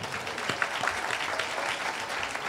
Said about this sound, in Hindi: एक जोरदार ताली बजाओ तो